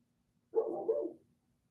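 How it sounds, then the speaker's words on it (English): Dogs bark outside from a distance, a single muffled burst of two quick barks against near silence, with no talking. "Can hear my dogs out there barking."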